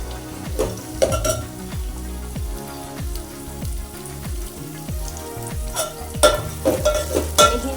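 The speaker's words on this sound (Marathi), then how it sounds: "तेलामध्ये आपल्याला अशी छान परतवून घ्यायची आहे किमान एक पाच ते दहा मिनिट तरी परतवून घ्यायला पाहिजे" Moth beans (matki) fry with onion in oil as a spoon stirs them, rhythmic scraping strokes about twice a second over a soft, steady sizzle, close up, with no talking.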